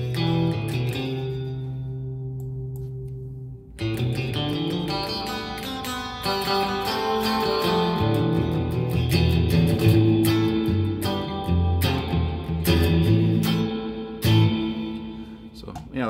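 Electric guitar played through a heavy spring reverb effect, notes ringing and splashing with a springy decay, steady and fairly loud throughout after a quieter opening.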